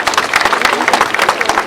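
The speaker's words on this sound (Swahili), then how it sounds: "tumpigie makofi mengi sana" A crowd claps energetically at an outdoor road foundation-stone ceremony in Kigamboni, brisk dense applause at close range, steady and loud throughout.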